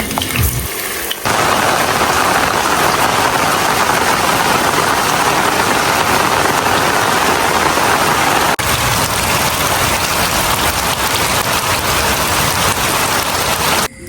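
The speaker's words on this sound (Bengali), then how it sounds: "বাহিরে প্রচুর বৃষ্টি পড়তেছে" Heavy rain pours steadily and loudly outside, a dense continuous hiss of drops on surfaces with no voices.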